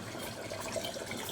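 Water running from a household pipe, a steady broadband rush with no pauses, alone and fairly close for the whole short stretch.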